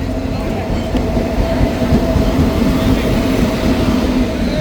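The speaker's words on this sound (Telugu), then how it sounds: "సో ట్రైన్ అయితే వచ్చేస్తుంది." A train pulls into a station during a group trip to Tirumala, its loud, close rumble and wheel rattle running continuously without a break.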